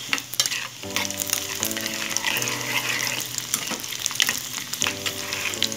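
Garlic cloves, cumin and tempering seeds sizzle and crackle loudly in hot oil with dried red chillies, a steady close frying hiss with stirring scrapes and a few clinks throughout.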